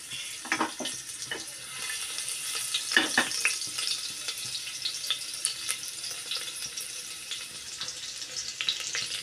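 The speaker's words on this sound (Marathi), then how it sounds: "तेल गरम झालं की आपण त्यामध्ये टाकतोय या ठेचलेल्या लसूण पाकळ्या" Crushed garlic cloves frying in hot oil for a kaju bean dish, a steady broadband sizzle with scattered crackles and a few sharper pops near the start, close and fairly loud with no voices.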